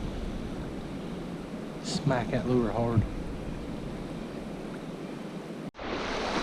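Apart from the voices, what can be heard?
fast-moving river water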